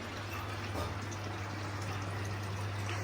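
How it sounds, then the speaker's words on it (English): Water drains steadily beneath the floor of a koi pond filter system, a constant rushing wash under a low pump hum, even and unbroken throughout. "obviously like the water under the floor, that's draining down nicely."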